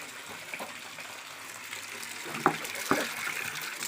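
Freshly caught puti fish being rinsed in water, with a steady wash of splashing and two sharper sloshes near the end, close and moderately loud.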